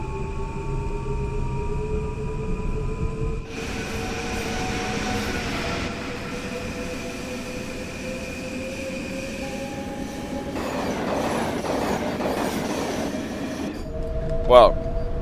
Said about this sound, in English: So, Acela is overtaking us.